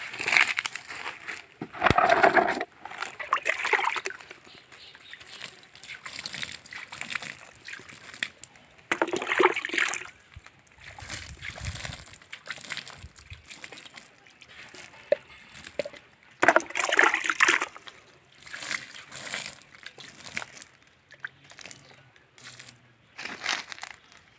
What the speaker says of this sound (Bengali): যে কোনো জিনিস লাগার পরে কিন্তু জল দিয়ে দিতে হয়